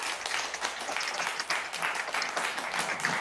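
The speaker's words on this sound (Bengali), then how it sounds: "একটা জোরে হাততালি হয়ে যাক ওনাদের জন্য।" An audience claps for a couple team at a Teacher's Day family quiz contest in a store, brisk dense applause that stays steady and fairly near throughout the short burst.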